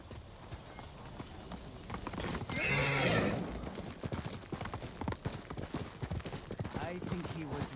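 Rapid hoofbeats clip-clop steadily as a horse gallops across ice in the video game Ghost of Tsushima, with a brief whinny in the middle, all fairly faint and close.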